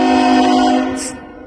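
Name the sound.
Norfolk Southern freight train passing Lynchburg station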